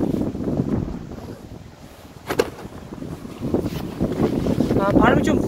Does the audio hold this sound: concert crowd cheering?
no